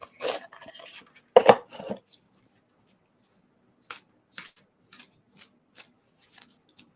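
Wild Unknown Tarot cards are shuffled and drawn: a dense rustle of cards in the first two seconds, then a run of short, crisp flicks and taps spaced across the rest, close by and fairly quiet.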